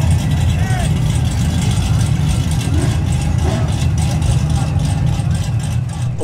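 A 1967 Chevrolet C10 pickup with a ProCharger-boosted engine and six-speed idles loudly and close by, a dense, steady low rumble throughout with voices talking over it.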